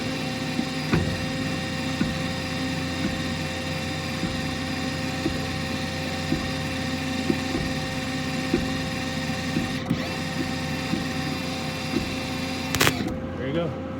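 A Lincoln 100 HD MIG welder's wire feed motor spins at full speed, a steady continuous whir with a faint hum beneath it, joined by a brief clunk near the end.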